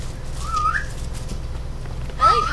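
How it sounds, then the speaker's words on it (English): A Guild Wars 2 character whistles to command his pet, two short rising whistles about two seconds apart over steady game background noise. "he whistles to command his pet"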